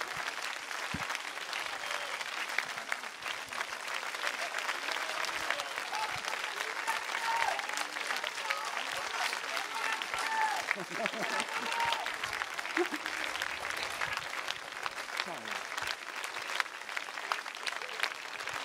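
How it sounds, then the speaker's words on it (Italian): Audience at an Italian political interview event applauds steadily for a long stretch, dense clapping with crowd murmur and a few voices underneath throughout. "Voglio approfittare di questo applauso"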